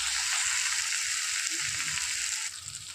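Eggplant fries slowly in oil over low heat, giving a steady dense sizzle that continues throughout and eases slightly near the end.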